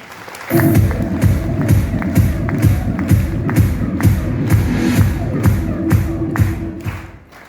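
Audience at an anniversary celebration breaking into loud, sustained applause with rhythmic clapping and some cheering, continuing for several seconds before fading.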